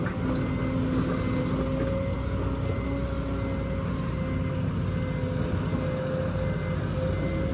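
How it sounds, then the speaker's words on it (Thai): A black truck backs up while loading crushed rock aggregate, its steady reversing beeper tone running the whole time over a continuous low engine rumble. "ถอยอีกค่ะรถดำถอยอีก"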